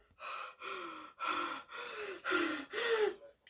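A voice imitates heavy panting: six loud, rhythmic breathy huffs in quick succession, close and raspy, each with a rough vocal edge.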